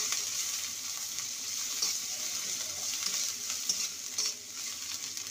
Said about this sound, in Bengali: এবারে দিয়ে দেবো আদা বাটা, ফোড়নটাকে আর আদা বাটাটাকে ভালো করে ভেজে নেব।